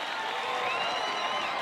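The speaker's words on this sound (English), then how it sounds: "The crowd went wild." A crowd cheers and claps briefly after a song, a dense, steady burst of applause and shouting at moderate loudness.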